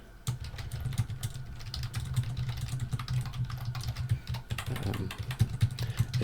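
Fast, steady typing on a computer keyboard, a continuous patter of close key clicks over a low hum from a nearby engine, with no speech.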